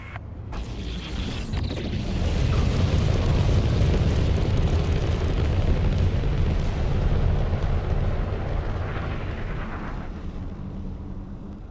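A spaceship lifts off from a hangar in a space video game, a deep, sustained rumbling roar that swells after a couple of seconds, holds strong, then slowly eases, with faint mechanical creaks and no talk.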